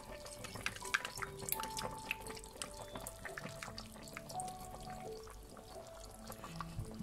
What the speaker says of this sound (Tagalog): magdadagdag tayo ng patis